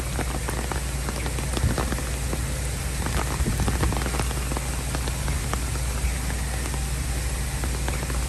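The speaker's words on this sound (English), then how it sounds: "As long as it's raining" Steady rain pattering on surfaces outdoors at a theme park, a dense continuous hiss with scattered nearby drops, loud and unbroken throughout, with no voices.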